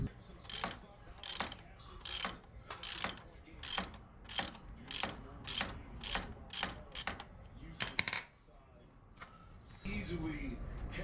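A ratchet loosening a bolt on a BMW K1600 GT motorcycle, with about a dozen crisp, evenly spaced clicking strokes followed by quieter mechanical handling noises near the end.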